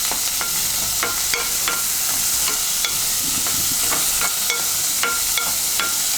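Onions sizzling steadily in a pan for a drumstick masala kurma, a dense frying hiss broken by sharp, regular clicks and scrapes of a spoon stirring, close and constant throughout with no voices.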